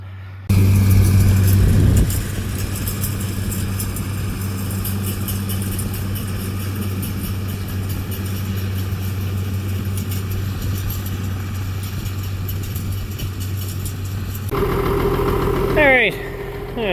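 An 806 farm tractor idles in a steady, close mechanical drone, with a louder surge at the start and another near the end.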